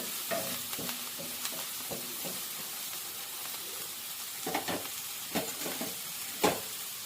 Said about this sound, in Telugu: మంచిగా వేయే వరకు ఇలాగే కలియ పెట్టుకుంటూ ఉందాము లేకుంటే మాడిపోతుంది